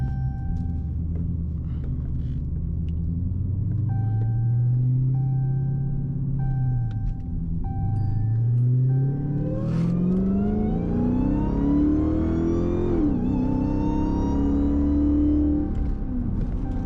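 A cammed Dodge Hellcat Charger with a stock convertible body rumbles with a choppy idle and then revs up in rising, whining sweeps, steady and close throughout, with faint electronic beeps in the cabin.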